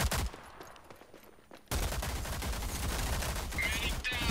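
Gunfire in the shooter game Rogue Company, a sustained stretch of rapid shots that starts abruptly after a quieter moment, with bright sharp accents near the end and some talk alongside.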